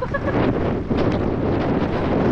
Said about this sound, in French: Il y a des bonnes rafales.